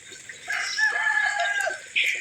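A rooster crows in the morning in the countryside during rice-planting season, one long drawn-out crow at moderate distance, with another crow just beginning at the end.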